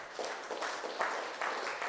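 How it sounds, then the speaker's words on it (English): Audience at a town hall meeting in Sauteurs, St. Patrick, applauding steadily for a couple of seconds, a dense, continuous patter of many hands at moderate volume with slight surges. "Give yourself a round of applause"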